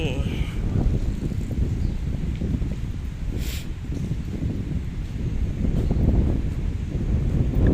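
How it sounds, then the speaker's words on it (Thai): Strong sea wind blows steadily against the microphone on a stone bridge by the Phuket mangrove park shore, a dense continuous roar and rumble with no break. "ลมแรงด้วยนะ"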